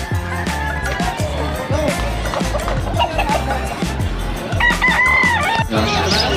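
Roosters and fighting cocks at a busy outdoor pet market in Calumpit, crowing and clucking repeatedly nearby and loudly over a crowded background, with people talking throughout.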